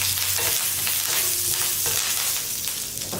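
Cumin seeds and curry leaves dropped into half a spoonful of hot oil for a tempering, crackling and sizzling loudly and continuously up close with faint stirring.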